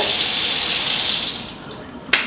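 Water runs steadily from a kitchen faucet, a loud close hiss that tapers off near the end, followed by a brief sharp knock.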